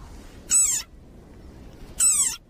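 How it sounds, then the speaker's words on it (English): A desert rain frog gives two high, shrill squeaks about a second and a half apart, each brief and close, with quiet background between them. "Like this desert rain frog. Squeaking viral sensation"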